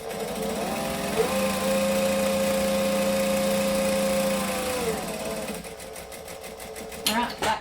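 A sewing machine stitches a strap on a handmade bag, running in one steady loud whir for several seconds before stopping, followed by a few clicks and handling sounds.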